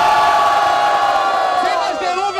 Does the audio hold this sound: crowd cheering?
yes